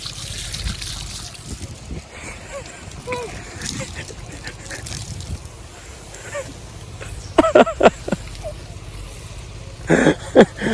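Water runs steadily into a container, a low continuous trickle and splash, while people talk intermittently nearby.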